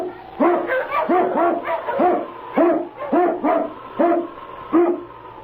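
An Eskimo lead dog barks as a radio drama effect: a steady run of about eight loud, close barks in pairs and singles over a faint sustained background tone, with no talking.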